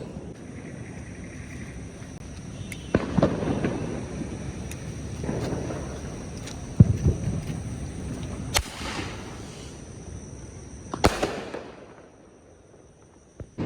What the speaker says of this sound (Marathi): आता आम्ही ते फटाक्याने पूर्ण करू